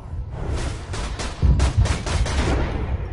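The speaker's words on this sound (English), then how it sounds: "You can shoot him right in the face, even though you're aiming at his crotch" Rapid gunfire from Borderlands 2 crackles in a dense burst of overlapping shots with booming low-end impacts, loud and close throughout.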